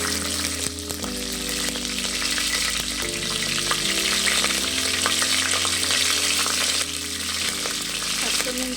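Green chillies fry in a pan for a soybean and avarekai vegetable pulao, giving a loud, steady hiss that holds without a break. Low tonal hum and a few stirring clinks sit underneath, with no voices.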